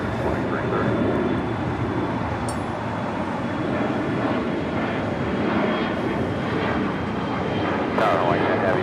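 Airliner taking off from runway 25 right at LAX, a steady broadband engine roar holding strong throughout, with faint radio chatter over it.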